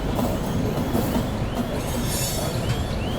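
Passenger express train running steadily while overtaking another train, heard from on board: a continuous loud rumble of wheels with faint rail squeals throughout.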